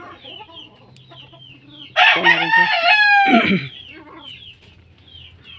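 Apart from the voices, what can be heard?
hen clucking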